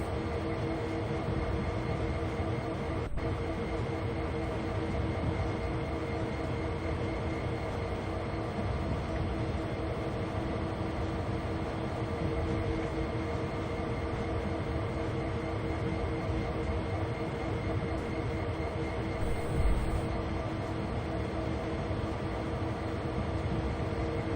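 Steady rumble of a train hauling tanker wagons in Train Sim World 2, a continuous droning engine and rolling wagons heard close and unbroken throughout, with no talking over it.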